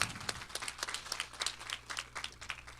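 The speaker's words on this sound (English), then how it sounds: "So please give them a round of applause." Round of applause at a city council meeting, a steady patter of many hands clapping at moderate distance, fairly quiet and even for about three seconds.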